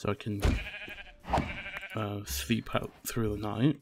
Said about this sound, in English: I might as well just kill these couple of sheep for their wool